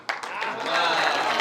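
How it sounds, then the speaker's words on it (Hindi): Audience applause at a Hindi poetry recital (kavi sammelan), starting abruptly and building into steady, moderately loud clapping with voices mixed in. "तालियां कम हैं, जरा जोरदार बजाइए।"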